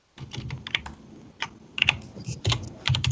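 Rapid, irregular clacking of keys on a computer keyboard in an office, with bursts of quick strokes and brief pauses, close and fairly loud with no talking.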